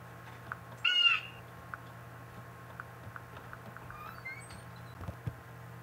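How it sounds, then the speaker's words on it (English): Bird calls in the puzzle game Windosill: a short, harsh crow-like caw rings out once near the start over a low steady hum, with faint clicks and small chirps scattered afterward. "The bird calling is like the most unnerving."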